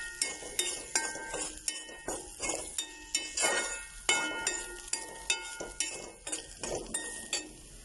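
A metal spoon clinks and scrapes against a pan while asafoetida and chili powder are stirred in, giving a steady run of sharp, close taps and scrapes with no talking.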